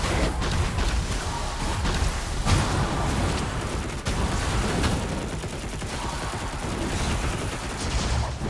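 Dense, continuous bursts of rapid gunfire crackle nonstop, loud and close, like a heavy firefight with no pauses, in the video game Darksiders Genesis.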